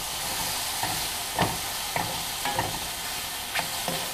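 Dried Thai chili flakes sizzle in a hot pan for soup, a steady frying hiss with several sharp stirring scrapes spaced about half a second apart, close and moderately loud.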